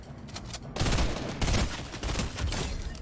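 Gunfire in the video game Fortnite, heard from outside: a dense, rapid burst of shots and machine-gun fire at moderate distance, continuous for several seconds with no speech.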